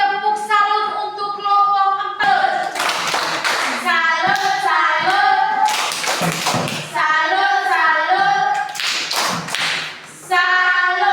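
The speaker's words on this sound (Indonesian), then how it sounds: "Oke, tepuk salut untuk kelompok 4." A classroom group claps a rhythmic chant together, bursts of hand claps alternating with sung children's voices in a lively, loud, patterned beat.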